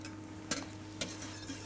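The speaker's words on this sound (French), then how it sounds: "je te laisse mélanger au fouet" Mixture being whisked in a bowl during pastry making, two distinct metallic taps of the whisk against the bowl over a soft, steady stirring swish, close and without talk.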